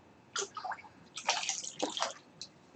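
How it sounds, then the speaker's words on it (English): Hot water splashes and gurgles into a basin in a pottery studio in short uneven bursts, close and moderately loud, with no talking. "now you can put more hot water in there"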